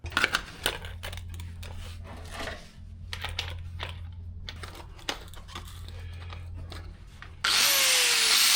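A power saw cuts through steel at a heavy swim platform install, a close, uneven run of grinding and rasping bursts over a low motor hum, ending in a sudden loud, bright screech of blade on metal.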